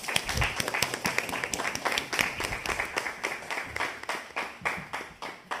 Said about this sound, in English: If everyone can give a round of applause.